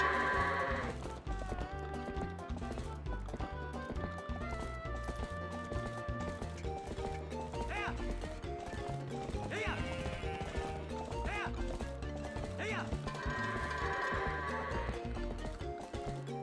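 Goats' hooves clip-clopping in Zelda: Twilight Princess, a steady trotting patter mixed under continuous game music with occasional chime-like effects.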